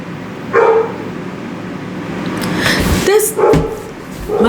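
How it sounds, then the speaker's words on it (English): A dog barks indoors, giving a few short yips and barks spaced across several seconds, fairly close, mixed with a person talking. "My dog's starting to bark."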